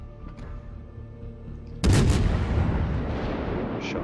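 Naval guns in World of Warships fire high explosive shells: one heavy booming salvo erupts suddenly over low engine hum, then rumbles and decays slowly.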